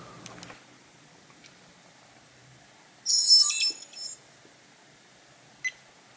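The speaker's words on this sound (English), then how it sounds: "there you can see it did beep when it started" A keeken N56 4K dash cam gives a short, high electronic startup beep tone lasting about a second, near and fairly faint, followed later by a brief click, against an otherwise quiet car interior.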